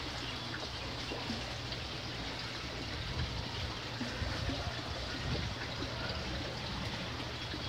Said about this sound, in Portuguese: Vamos ver se ela realmente a água vai subir direitinho, né? E se essa água vai cair como tem que cair.